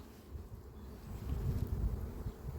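Honey bees buzz from a foam beehive as a faint, low, steady drone that swells slightly midway, with no talking.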